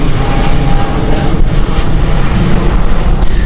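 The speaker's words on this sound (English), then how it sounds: "flight going out next from Aer Lingus" An Aer Lingus airliner departs at Gatwick Airport, its jet engines giving a loud, steady roar that fills the whole stretch without pause.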